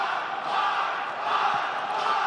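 A large crowd chants in unison at a Mortal Kombat tournament, a sustained roar of voices that stays loud and steady throughout, with no commentary over it.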